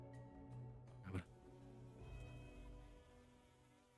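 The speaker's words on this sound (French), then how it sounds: "Vous entendez quelques mouches qui volent autour de vous." Flies buzz faintly around a split tree trunk in a gloomy tabletop role-play ambience: a thin, wavering drone with a louder pass near the listener, then a low steady hum.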